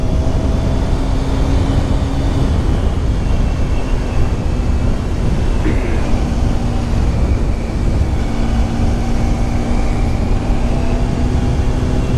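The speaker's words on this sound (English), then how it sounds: "This bike runs very well." A 2006 Honda CBR1000RR sportbike engine drones steadily while being ridden, a constant loud hum mixed with heavy wind rush and no talking.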